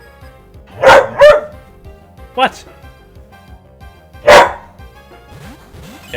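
Indoors, a pet dog lets out several sharp barks at a wall, a quick pair followed by two more spaced apart, with a person speaking briefly between them.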